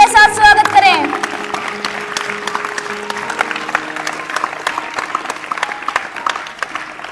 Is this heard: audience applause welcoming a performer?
yes